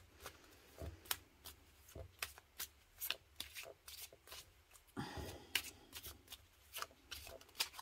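Animal oracle cards being shuffled and drawn by hand during a tarot-style reading, with repeated crisp riffling flicks and soft slaps in an irregular rhythm, close and fairly quiet.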